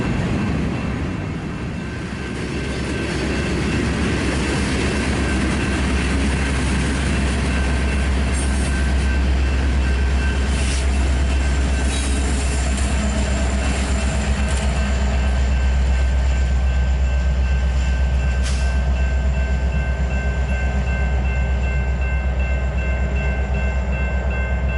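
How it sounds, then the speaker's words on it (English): An eastbound BNSF double-stack freight train draws closer, a steady heavy rumble of rolling cars and low engine drone building slightly over nearly 25 seconds, with no voices. "we can see an eastbound BNSF stack train approaching"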